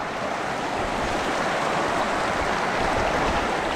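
Moving stream water in Lyell Canyon, Yosemite rushes in a steady, dense broadband wash, close and continuous throughout with no voices.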